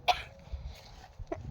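A person gives a short, sharp cough at the start, followed by a fainter second cough a moment later, close by over quiet room noise.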